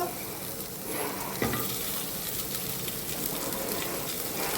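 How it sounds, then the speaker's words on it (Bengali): Chopped vegetables, including tomato, beans, potato and carrot, go into hot oil in a pan and set off a loud, dense sizzle. A sharp crackle marks them landing, then steady frying and stirring follow, close up and without talk. "এবার আমি কেটে রাখা সমস্ত সবজিগুলোকে দিয়ে দেবো।"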